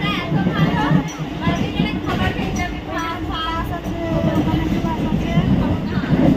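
Inside a moving train, a continuous low rumble and rattle of the carriage runs throughout, with people talking over it close by.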